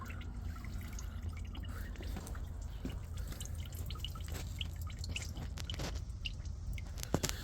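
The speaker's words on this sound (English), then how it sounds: "Yep, it's draining." Coolant drains and drips from the thermostat housing of a 2013 Ford Fusion 2.5, a steady close-up trickle and patter of liquid with scattered drip sounds and no talking.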